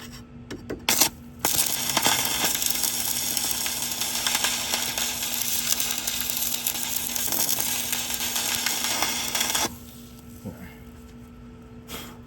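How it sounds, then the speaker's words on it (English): Sefaspe MMA205SE stick welder laying a tack weld, a loud, steady crackling arc that holds for about eight seconds and then stops, with a few clicks before and a quieter hum after. "That's a tack weld."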